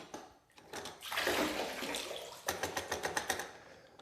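Water pours and splashes out of a soaked Milwaukee Packout, DeWalt Toughsystem or Ridgid tool box after it was held underwater, a sustained close gush followed by a run of quick dripping spatters.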